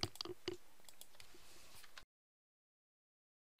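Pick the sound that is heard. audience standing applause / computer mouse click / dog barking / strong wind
computer mouse click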